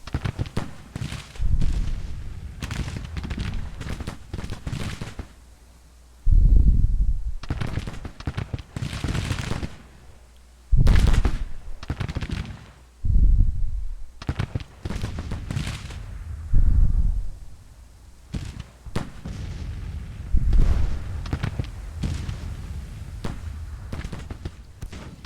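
Gunfire and artillery from a Civil War strategy video game: volleys of crackling musketry and heavy booms arrive in loud clustered bursts separated by quieter lulls, with scattered pops in between and little talk.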